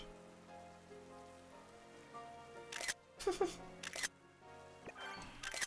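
Rain falls in a video game, a soft patter over sustained tonal game music, then louder bursts of splashing rain come in several waves near the end.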